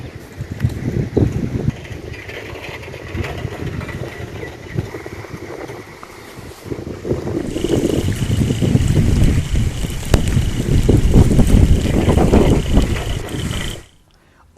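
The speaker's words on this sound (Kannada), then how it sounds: "ಮಳೆ ಬರ್ತಾನೇ ಇದೆ ಧಾರಾಕಾರವಾಗಿ" Heavy monsoon downpour over a farmhouse in Davangere, Karnataka, during flooding: a steady, dense hiss of rain that swells louder partway through and continues unbroken until it cuts off abruptly near the end.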